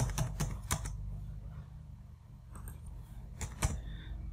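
Fingers type on a computer keyboard in a few short bursts of clicky keystrokes, with quiet pauses between them. The keys are close and fairly soft, with no talk.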